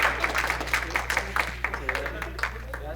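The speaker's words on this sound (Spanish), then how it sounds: "Demos un aplauso al doctor." An audience at a mathematics lecture gives a short round of applause for the speaker, many hands clapping in a dense patter that stays moderate and fades slightly toward the end.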